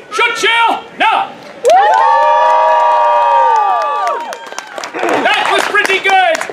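Theatre audience at a Shakespeare Romeo and Juliet show cheering, whooping and clapping as a crowd, with a sustained loud burst of shouts and hollers, then scattered whoops.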